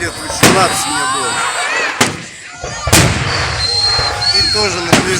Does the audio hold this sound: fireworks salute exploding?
yes